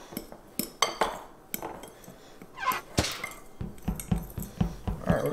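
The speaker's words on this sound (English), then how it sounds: "Mix this in good with this." Keto peppermint cookie ingredients are mixed with a utensil in a bowl, giving a rapid series of close clinks, taps and scrapes against the bowl in an uneven rhythm.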